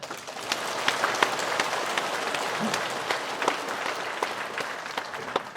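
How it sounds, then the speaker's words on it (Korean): A church congregation at a Sunday morning service applauds in thanks to its members and pastor, a continuous, fairly soft wash of many clapping hands sustained evenly with a few sharper claps standing out. "우리 감사의 박수 한번 칩시다"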